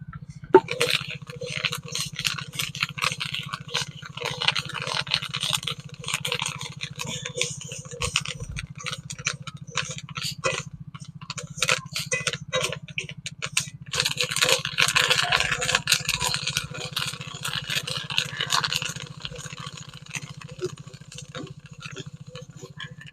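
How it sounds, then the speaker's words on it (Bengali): Rice is fried in hot sand to make puffed rice, a continuous dry rattling and scraping as grains and sand are stirred, with scattered crackles and a low steady hum beneath. "ভাজতে ভাজতে বালি কমে এসেছে, আর একটু বালি দিয়ে দিচ্ছি।"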